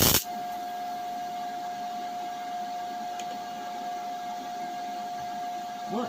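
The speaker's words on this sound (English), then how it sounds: "I'm going to try and weld this back together." Welding on the wing of a Ford Cortina Mk3 estate, a steady buzzing hiss with a constant whine running throughout, fairly close and unbroken, with no talking.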